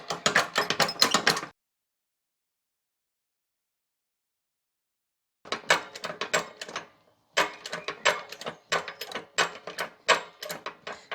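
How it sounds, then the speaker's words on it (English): A hydraulic jack pumped up to full operating height makes quick bursts of rhythmic mechanical clicks and knocks, goes silent for several seconds, then resumes with two longer runs of pumping. "then we get the jack to full operating height"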